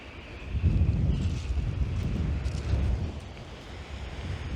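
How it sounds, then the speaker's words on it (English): Breezy wind on the coast at Winchelsea near Rye while sea fishing, a low blustery rumble that swells and eases in gusts, loud and close, with no talking. "Winds are getting up."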